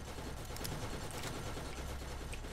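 Gunfire in Borderlands comes as a rapid, fairly quiet stream of shots with a few sharper cracks standing out, and it runs the whole way through without voices.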